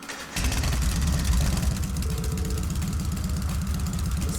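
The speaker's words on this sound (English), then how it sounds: "Right, first is starting up the engine." Motorcycle engine in the game Trails of Cold Steel starting up and settling into a steady idle, a loud, continuous low rumble with a pulsing rhythm that fills the clip from start to end.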